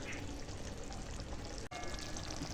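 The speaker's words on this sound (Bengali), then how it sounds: "মাছের তেল ঝালটা এখন রান্না হয়ে গেছে তো চলো এখন ঢেলে ফেলি" Cooked spicy fish curry in oil is poured out of a pan, a soft, continuous wet slosh and trickle heard close and alone, with a brief clunk near the end.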